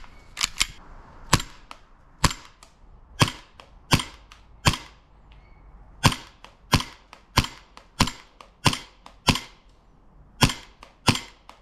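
An airsoft replica of a gun from Modern Warfare 2 fires at a target about 75 feet away, a long series of sharp, loud snapping shots at an irregular but brisk pace, each a crisp crack standing alone.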